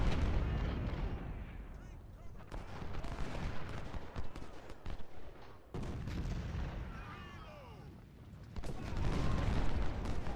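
Artillery fire in the Civil War strategy game Ultimate General, with booming cannon blasts and crackling musketry in dense volleys, fading briefly midway, then surging loud again, some faint voices underneath.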